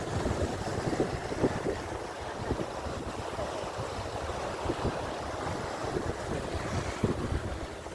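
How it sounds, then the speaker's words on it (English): River water rushing at the source of the Nile, a broad, steady roar of flowing water mixed with wind buffeting the microphone, loud and continuous with no talk. "A lot of water going through."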